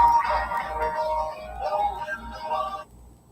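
A telephone rings with repeated electronic tones in regular bursts during a live broadcast, moderately loud, then stops abruptly before a quiet tail.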